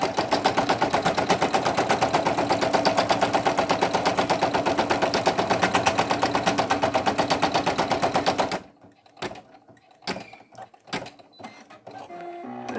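A Brother single-needle sewing machine runs a placement stitch on minky fabric in a steady, rapid, loud mechanical chatter for about eight seconds, then stops abruptly, followed by a few scattered clicks and handling knocks.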